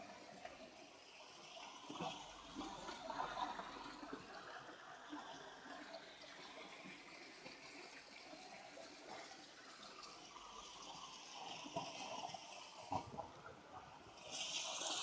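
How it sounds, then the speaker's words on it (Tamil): Water flows steadily through a forest area near Peppara Dam, a continuous rushing, gushing wash heard fairly close throughout, with a few brief louder splashes. "ஆக்சுவலி தண்ணி வருது, இந்த பக்கம் போகிற மாதிரியே இல்லை."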